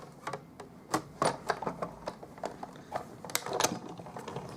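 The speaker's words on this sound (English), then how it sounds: "I'll crank this through the big shot" Stampin' Up! Big Shot die-cutting machine cranked by hand to cut a leaf from olive cardstock, giving a close, uneven run of ratcheting clicks and gear clatter without any talk.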